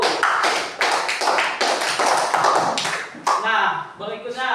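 Indonesian classroom of students clapping for a group, a dense run of overlapping claps that fades near the end as a voice starts speaking.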